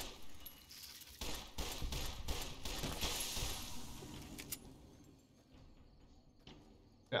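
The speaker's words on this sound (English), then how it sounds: "Hope every single one of these shots lands." Quiet, scattered gunshots from a 10mm pistol in the video game Fallout crackle in a short flurry near the start, then fade into low background game ambience.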